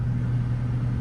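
A car engine running at a steady idle, a low even rumble with a hum that holds constant, close by and with no voices.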